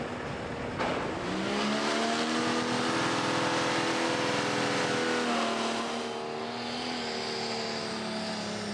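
The Lancashire Bomber pulling tractor roars at a tractor pull, a loud sustained engine drone whose pitch climbs and holds as it strains under load, fading slightly toward the end.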